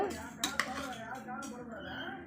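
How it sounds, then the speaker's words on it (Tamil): A ladle stirring cooked pongal inside a metal pressure cooker, giving a few close scraping clinks against the pot amid soft continuous mixing noise, with someone talking over it. "இப்போ நம்ம ஒரு கரண்டியை வச்சு நல்லா இப்படி மிக்ஸ் பண்ணிக்கோங்க"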